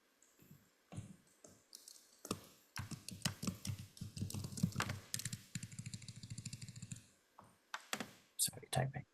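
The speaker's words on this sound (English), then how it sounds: "Sorry, typing." Rapid clicking of a computer keyboard being typed on, steady and close, with a voice talking over parts of it.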